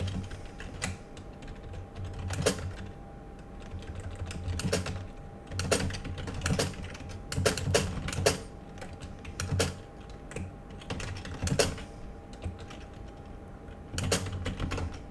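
Keystrokes on a computer keyboard come in bursts of sharp clicks with short pauses between, close and fairly quiet over a faint steady room hum, with no voices.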